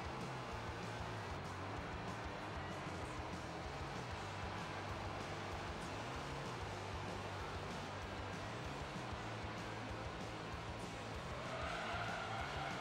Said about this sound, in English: Look at that eloquent drift!